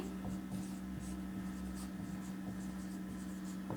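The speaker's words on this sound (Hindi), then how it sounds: "पहले यही लाइन लिखेंगे इसमें" A pen writing a line by hand on paper, a soft continuous scratching with faint stroke taps, close and quiet over a steady background hum, with no talking.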